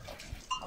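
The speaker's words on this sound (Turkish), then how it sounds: "Keçiler var, koyunlar var." Goats and sheep on a highland pasture at Haçka Yaylası near Silifke, with short, moderately faint goat bleats rising near the end of a brief outdoor moment.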